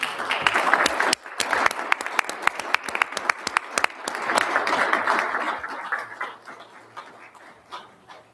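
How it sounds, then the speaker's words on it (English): At a board of trustees meeting, the board and audience applaud, with dense rapid clapping that swells, stays strong, then thins toward the end, with cheering and voices mixed in. "we need to all cheer for them"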